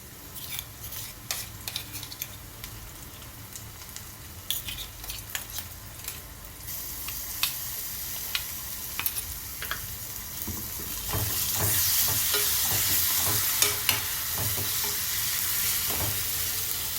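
Green chili and ginger paste fries in a pan with a steady sizzle that grows louder partway through, punctuated by frequent scraping stirs of a utensil.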